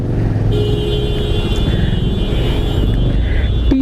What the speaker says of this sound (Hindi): ट्रैफिक, टू मच ट्रैफिक यार